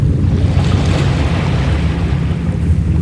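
Broad steady wash of water, like a wide river or surf, with a continuous low rumble and airy hiss running evenly throughout, loud and close, no voices.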